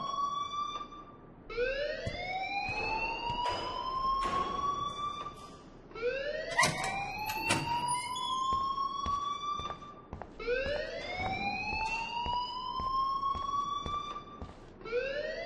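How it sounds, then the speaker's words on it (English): A wailing electronic alarm in the video game Life Is Strange sweeps upward in repeated rising cycles, loud and continuous, each whoop climbing then holding before starting again, with no talking over it. "please turn off that alarm since that's your job"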